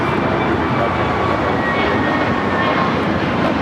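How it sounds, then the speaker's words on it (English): An American Airlines A321neo jet takes off at LAX with a loud, steady, broadband engine roar that holds without a break across the whole stretch. "This takeoff is American Airlines 753 taking off to Atlanta, Georgia on the A321neo."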